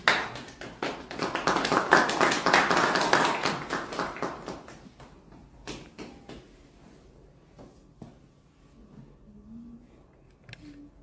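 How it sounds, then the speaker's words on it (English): Audience applause at an investment meet-and-greet event in Toronto, a dense burst of clapping that swells over the first few seconds and then gradually thins and fades away. "a beautiful round of applause"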